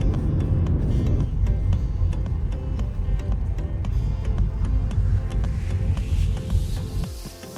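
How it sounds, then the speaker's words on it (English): A taxi drives fast up a mountain road, with a steady close engine rumble and road noise throughout and faint regular ticking over it. "The taxi driver was driving real fast up the mountain to the starting point."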